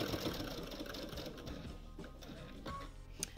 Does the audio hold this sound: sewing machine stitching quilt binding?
yes